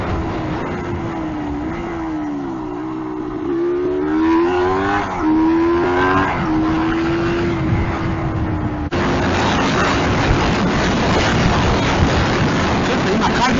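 A 1987 Yamaha DT200R two-stroke motorcycle engine revs up and holds higher rpm, with a rising, wavering buzzy tone that then settles into a rough steady drone, loud and close.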